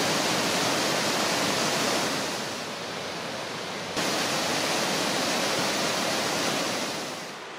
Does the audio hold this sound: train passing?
no